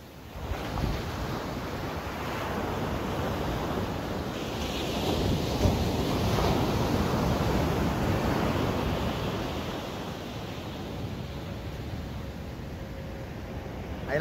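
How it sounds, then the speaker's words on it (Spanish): Ocean surf breaks steadily on a beach between Santa Cruz and San Francisco, California, while people fish in the waves, a continuous broadband wash that swells in the middle and eases toward the end, with wind rumbling against the microphone. "aquí andamos pescando en las olas. Entre Santa Cruz y San Francisco"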